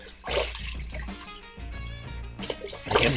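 Water-washable resin prints sloshed around by hand in a container of water, giving close, continuous splashing and swishing with brief louder surges.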